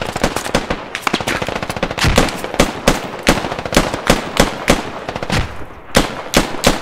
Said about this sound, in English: Squad 3 is providing covering fire